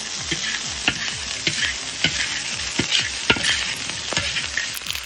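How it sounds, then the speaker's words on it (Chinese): Pork stir-frying in a hot wok with scallion, ginger, star anise, cinnamon and bay leaf, a loud continuous sizzle broken by repeated scraping strokes of the spatula, with no talk. "葱姜八角桂皮香叶下锅，炒香了，肉放里。"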